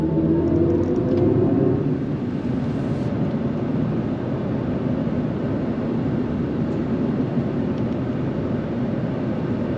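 A 2026 GMC Sierra EV AT4 electric truck accelerates under throttle, producing a loud, steady low rumble of road and wind noise with a faint whine, continuous for the whole stretch and without talk.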